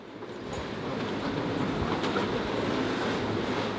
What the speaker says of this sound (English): The wind's picked up. I've seen 36 knots.